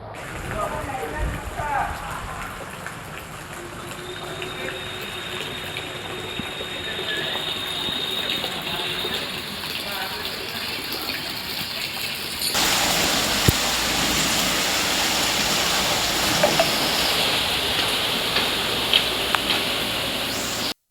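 Heavy monsoon rain pours in Surat during creek flooding, a constant loud wash that grows denser partway through, with faint rumbling underneath and no clear talk.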